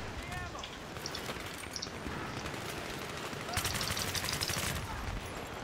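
A suppressed MG36 rifle firing in burst mode in Battlefield 3, giving muffled rapid bursts of shots over a busy game soundscape, with a longer dense burst toward the end.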